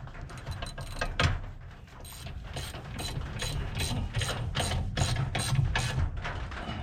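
A hand ratchet clicks in quick repeated strokes while a bolt is tightened on a 1981 Corvette, with a steady run of sharp, close clicks and no talking.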